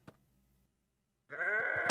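Goats in the Minecraft video game bleat in one short, bright, nasal call near the end, after a tiny click and near-silence.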